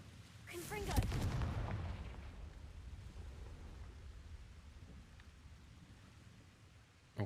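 A Confringo spell blast in Hogwarts Legacy: a single heavy booming explosion near the one-second mark that rumbles and slowly dies away over several seconds, with a small knock at the very end.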